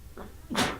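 A single sharp sneeze bursts out near the end, preceded by a brief breathy intake, close and fairly loud.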